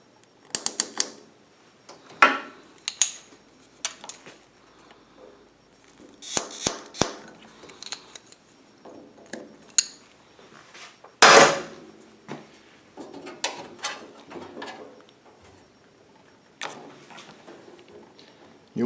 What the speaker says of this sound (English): And then we'll go ahead and put a fuel fit or a hose clamp on it.